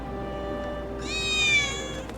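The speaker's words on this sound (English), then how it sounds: "I think one of Betty's cats might be nearby." A cat meows in the Final Fantasy 7 Remake video game, a single drawn-out, high mew rising over a steady game ambience hum about halfway through.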